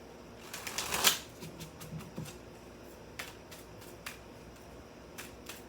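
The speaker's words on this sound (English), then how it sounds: "One more shuffle." Cards of a tarot deck riffled and tapped in a quiet room, a brief louder shuffle burst followed by sparse soft clicks as cards settle.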